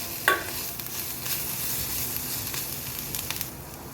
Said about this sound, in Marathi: आता हे व्यवस्थित मिक्स करून घ्यायचं आहे, व्यवस्थित परतून घ्यायचे आहे आपल्याला.